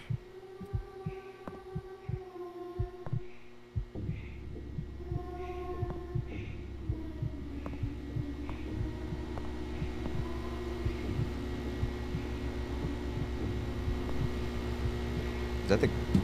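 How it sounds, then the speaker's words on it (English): A thudding heartbeat sound effect in a horror video game pulses steadily over a low ambient hum, growing denser and louder as it goes on, with no talking over it. "I hear my heartbeat."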